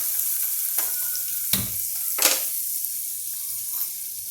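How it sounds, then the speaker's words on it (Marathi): Dal sautéing in hot oil for a salty Ganesh-festival prasad dish: a constant loud sizzle broken by a few sharp stirring scrapes against the pan, with no voices. "आपण जरा परतून घेणार आहोत"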